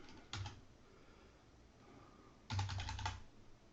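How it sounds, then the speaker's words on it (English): A few quick key presses on a computer keyboard, typing the letter X in CAD software, land in two short clusters, close and soft over a low room hiss, with no talking. "We're going to type the letter X"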